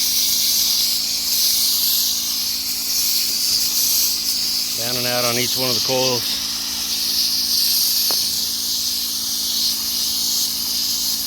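Steady hiss of a garden hose spraying water onto the coils of a Carrier packaged air-conditioning unit, continuous and close, with someone briefly speaking over it midway.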